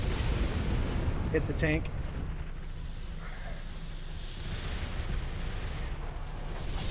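Mech weapons open fire in MechWarrior Living Legends, a brief sharp burst of shots early on over a steady low rumble of engine and battle noise, with a voice talking over it.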